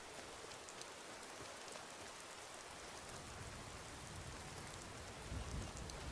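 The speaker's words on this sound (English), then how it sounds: "I just see a cloudy sky with medium rain" Medium rain falls steadily under a cloudy sky in Skyrim, a soft, even hiss of drops that continues without a break, quiet and uniform with a faint low rumble beneath it.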